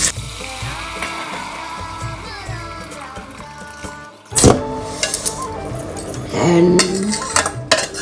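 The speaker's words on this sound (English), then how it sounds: "I will add all my dal slowly." Dal is added slowly to a cooking pot, clinking metal utensils and pot sounds with a scraping pour, brief splashy clatter midway, and a voice speaking briefly.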